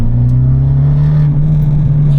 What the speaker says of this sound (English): it just lets that exhaust noise come into the cabin that little bit more